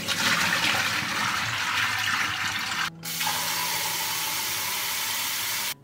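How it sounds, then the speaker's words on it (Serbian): Soaking water is poured out and clean cold tap water runs into the pot: a steady, loud rushing stream that breaks off briefly midway, then resumes with no talking. "prosuću ovu vodu i naliću čistu hladnu vodu"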